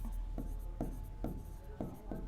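Pen strokes scratch across paper while a maths geometry problem is worked out, with rhythmic bursts of writing repeating roughly every half second, close and fairly quiet.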